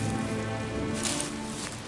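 Rain in a Good Dinosaur storybook game app, heard as a steady, even hiss of falling rain with a faint low hum underneath, continuous and without talk.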